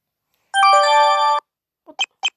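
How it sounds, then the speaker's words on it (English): A phone message ringtone in the courtroom game Ace Prosecutor Zero: a loud bright sustained electronic chime, then after a short pause three quick clipped blips. "It's my phone. I received a message."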